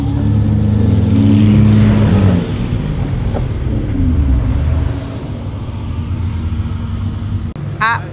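A Lotus Exige Sport 380 sports car out on a road drive, its engine a loud, steady low rumble heard from close by that eases off after a few seconds, with a brief higher whine near the end.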